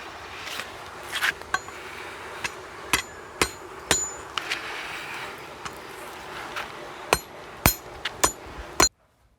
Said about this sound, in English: So I'm gonna try to forge the spikes that I need to mount my anvil.